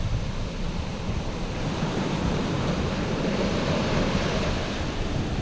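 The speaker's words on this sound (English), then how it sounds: "Nice rippling waves coming in then." Steady broadband rush of sea waves rolling onto the beach at Langney Point, Eastbourne, continuous and fairly close, with some wind noise across the microphone and no voices.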